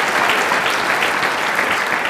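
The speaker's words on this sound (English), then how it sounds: "Give America a round of applause." A brief burst of loud, dense applause from a university audience at a talk on inclusivity and diversity, steady and unbroken, with no speech over it.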